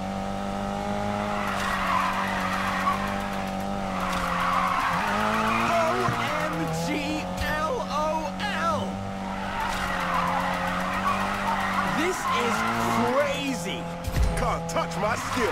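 Tires squeal in long sustained skids as a car drifts around corners in a Need for Speed racing game, engine droning underneath while someone talks over it.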